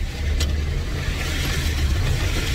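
A Nissan truck engine rumbles low and steady while driving through mud in two-wheel drive, a continuous deep drone with a faint rise in revs.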